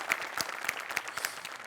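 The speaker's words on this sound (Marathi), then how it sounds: "आणि निर्मिती ताईंसाठी या स्पेशल वाला टाळ्या." Audience applause from a live comedy show's studio crowd, steady clapping sustained throughout at moderate level with sharper individual claps standing out, no voices on top.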